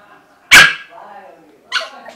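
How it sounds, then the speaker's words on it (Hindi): A small dog indoors gives a sharp, loud bark close by, then a shorter, softer bark or yip a moment later, with a faint whine between them. "तभी भौंक रहा है"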